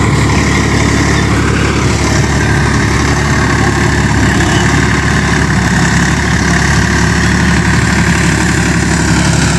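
A Sivaraj 74-4FE farm tractor, above 55 hp, drives along a village road, its engine droning steadily and loudly up close with a constant low rumble and vibration throughout.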